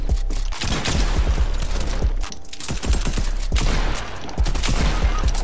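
Dense bursts of automatic gunfire from a Fortnite match, rapid loud cracks in quick volleys with short pauses between them, close and continuous with no talking.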